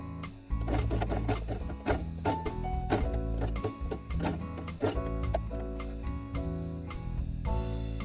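A sewing machine stitches along a fabric edge with blue thread on a quiet book page, a close mechanical run of rapid stitches with irregular clicks and bumps throughout.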